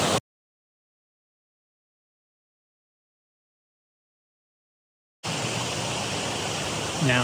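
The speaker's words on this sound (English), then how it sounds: "is my kind of waterfall. So a lot of water coming over this thing, but it's spread out." A broad waterfall with a heavy flow spread across a wide ledge at Ricketts Glen gives a loud, steady rushing roar, cutting in abruptly after a long silence and continuing unbroken to the end.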